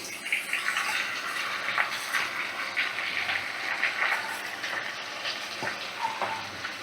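Rice and lentils go into a pan for khichuri and fry with a soft, uneven sizzle, scattered crackles and stirring scrapes at moderate distance, without speech.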